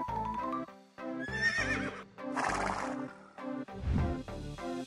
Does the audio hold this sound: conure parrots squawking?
no